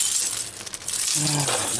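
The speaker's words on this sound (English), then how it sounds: "Get through my mess of keys. I only got a million of them." A large bunch of keys jingles and clinks close by in a short burst of bright metallic rattling, handled near a 1986 BMW 325 E30.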